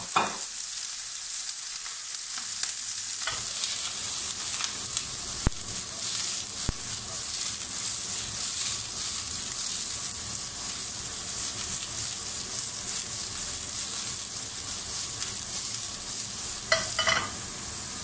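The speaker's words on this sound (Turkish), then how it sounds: "istiridye mantarlarını pişiriyorum." Oyster mushrooms sizzle in oil in a frying pan, a dense, continuous crackling hiss that holds steady for a long stretch, close and fairly loud, with a few faint knocks of the pan or utensil and no talking.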